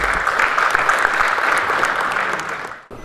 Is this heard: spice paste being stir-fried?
no